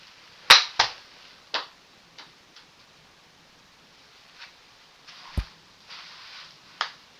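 Golf balls struck in an indoor garage simulator, one sharp loud crack followed by a few fainter ticks and taps scattered over a quiet background, with no talk.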